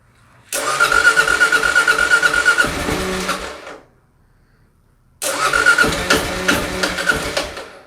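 Kawasaki KLR 650 motorcycle engine cranking with the choke on, two loud bursts of starter churning and sputtering, close by, separated by a brief silent pause, with no talking.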